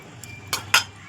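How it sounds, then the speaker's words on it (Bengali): A metal spatula scrapes and knocks against a kadai while salt is stirred in before frying fish, giving two or three short, close, sharp clinks in quick succession. "একটু খুঁতি দিয়ে নাড়াচাড়া করে নিলাম।"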